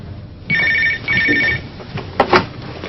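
A telephone rings in two short electronic trills as a business call is put through, followed by a couple of clicks.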